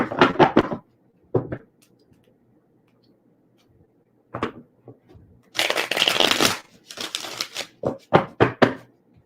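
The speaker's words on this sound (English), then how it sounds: "let's get a good shuffle here." Tarot cards being shuffled by hand in quick riffling bursts, separated by short pauses and followed by a few sharp taps and snaps. The sound is close and crisp, with no voices.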